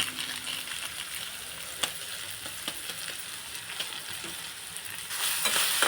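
Vegetables fry in a pan with Maggi masala for a vegetable pulao, a steady crackling sizzle broken by light stirring clicks, growing louder near the end.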